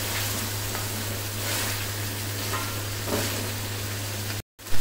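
Chicken pulao mixture for a festive dish sizzles and fries steadily in the pan while being stirred, a dense continuous crackle with a low hum underneath, cutting off abruptly near the end.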